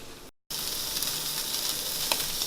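Beef steak sizzles in hot grease with a loud, steady hiss that cuts out briefly near the start, then resumes unbroken and close.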